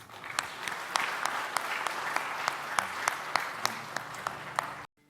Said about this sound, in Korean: 우리 모두가 박수함으로 우리 박상욱 목사님을 오늘 귀한 말씀의 자리로 모시겠습니다